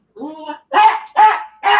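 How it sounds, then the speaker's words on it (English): A pet dog barks indoors, one whiny yelp followed by three sharp close barks in quick succession. "My dog's being annoying."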